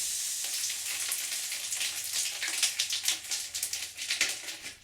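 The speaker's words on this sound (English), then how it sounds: "The day after, I flip the deck. Let out the air." Air hisses out of a tube on a fiberglass and epoxy kayak coaming, a close, steady, bright rush that turns into uneven sputtering puffs toward the end.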